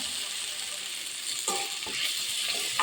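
Potato and capsicum stir-fry with turmeric and chilli powder sizzles in a pan while a few quick scraping stirs cut through near the end.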